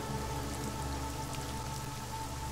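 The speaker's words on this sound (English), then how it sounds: "the rain would completely ruin that crime site" Steady rain falls across the streets of Prague during a curfew in the video game Deus Ex: Mankind Divided, a dense, even hiss of drops on surfaces that persists without a break and with no voices.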